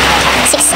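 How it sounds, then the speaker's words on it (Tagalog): Steady rain pours down in a dense, continuous hiss at close range, loud and unbroken, with no voices over it. "Walang tigil yung ulan"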